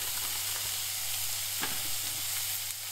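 Minced beef fries in a dry pan with no oil, giving a steady bright sizzle with a few soft stirring clicks and scrapes, close and unbroken, with no voices.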